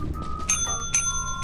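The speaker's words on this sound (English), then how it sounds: "let's just ring the shit out of that bell" Ship bell in the Lethal Company video game rung three times in quick succession, bright metallic dings ringing out clearly and close over faint background noise.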